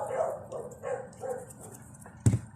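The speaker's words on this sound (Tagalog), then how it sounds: "So, maingay yung mga aso." Dogs bark and yip nearby in a home kitchen while a recipe is made, a few muffled barks spread out, one sharp louder bark near the end, with background noise.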